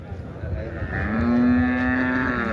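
A single drawn-out water buffalo low, deep and steady, rising out of quiet background rumble at a livestock market and holding for over a second nearby.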